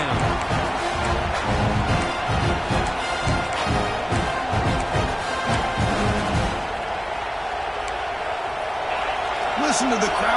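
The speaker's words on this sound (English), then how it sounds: "Listen to the crowd energy here in the early going" Stadium crowd at a football game roaring in a steady broad wash through a play, with a commentator talking over it.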